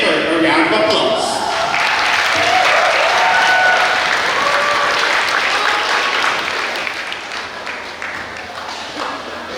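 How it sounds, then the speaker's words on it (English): An audience at a graduation ceremony gives sustained, loud applause that fills the hall. The clapping holds dense and steady, then slowly thins toward the end. "Let's give her a round of applause."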